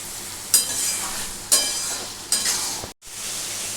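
Spices with the water they were washed in fry in a pan for a soybean, potato and pointed gourd curry, a steady low sizzle broken by three sharp scraping stirs about a second apart, then a brief drop to silence.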